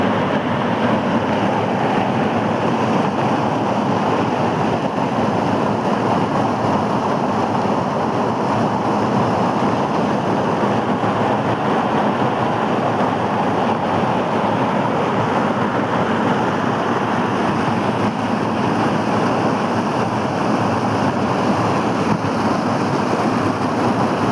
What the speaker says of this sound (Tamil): நம்ம தாமிரபரணி ஆற்றுல தண்ணீர் எப்படி போகுது பாருங்கள்.